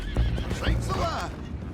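A horse in Red Dead Redemption 2 gives a loud, close whinny, with hooves clip-clopping beneath it, all packed into under two seconds.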